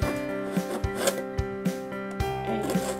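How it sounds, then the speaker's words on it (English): A precision knife cuts slowly into a marble-look vase, giving short scraping strokes at a steady rhythm, close and fairly loud over a sustained musical background. "I'm using this precision knife"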